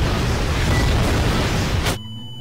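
A loud, rumbling meteor impact explosion in Garry's Mod booms for about two seconds, then cuts off abruptly into a quiet, low hum.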